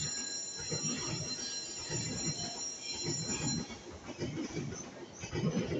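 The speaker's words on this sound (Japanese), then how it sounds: "8番線から列車動いております。" An E657 series limited express train, the Hitachi 9 bound for Iwaki, rumbles and squeals as it departs platform 8 at Ueno, with high steady metallic tones above and muffled station noise underneath.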